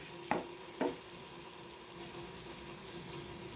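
Tomatoes sautéing in a pan for ivy gourd chutney, a faint steady sizzle with two short stirring clatters near the start.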